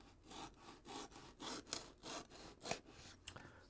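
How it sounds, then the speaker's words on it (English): An Opinel knife slicing through a cardboard headphone box, giving a series of rhythmic scraping, sawing strokes with a few sharper cuts, close up and moderately loud, with no talking. "I'm just going to just cut this open here."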